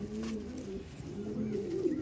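An Andhra pigeon coos softly at close range, a few low, rolling calls over two seconds.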